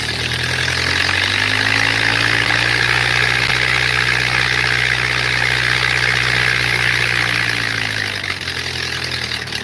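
A Model A Ford car engine on a Pietenpol homebuilt aircraft runs up loudly at full static power, about 1950 RPM, in a steady, throaty drone with a whirring propeller, holding high power before easing slightly.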